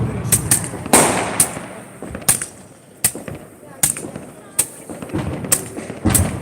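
Fireworks and firecrackers burst repeatedly at a New Year's celebration, sharp cracks arriving in an irregular series, some close and loud, others sparser, with faint voices in the background.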